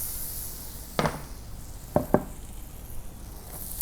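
Chanterelle mushrooms sizzling in butter in a pan, a soft low crackle close by, broken by a few sharp clinks and knocks of utensils against the pan, with no speech.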